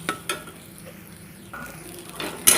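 Egg frying in a little oil in a pan, with a low sizzle under a few sharp clinks and scrapes of a spatula against the pan.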